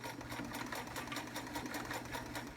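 A vintage Sears Kenmore 158.13200 heavy duty sewing machine sewing a blind stitch, a fast steady mechanical whirr with rapid rhythmic needle ticking, close and continuous with no talk.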